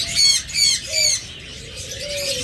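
A pair of American yellow forpus parrotlets call nearby in three loud, sharp squawking bursts, followed by quieter chirping, with no voices.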